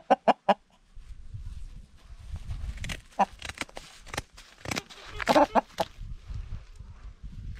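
Chickens cluck and squawk in short sharp bursts, close by, while their primary wing feathers are clipped on a farm in central Portugal, with low talk running underneath.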